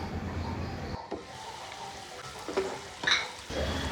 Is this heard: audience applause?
no